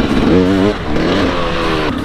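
A Thumpstar TSN 300 two-stroke dirt bike in second gear revs hard for a moment, then settles into a rougher, lower throttle, loud and close.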